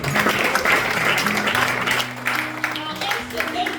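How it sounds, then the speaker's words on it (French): Audience applauding at a talk, a steady wash of clapping running throughout the short stretch, with a voice speaking over it and some music or tones underneath. "Applaudissez pour ça."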